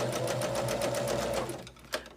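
A sewing machine stitches fabric strips for a quilted table runner, running in a steady, fast, rhythmic whir close up before slowing to a stop.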